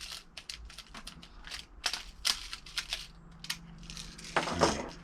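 Pellets being loaded one by one into the magazine of a Crosman R1 air rifle, heard as a close, irregular series of small metallic clicks and light taps with no talking.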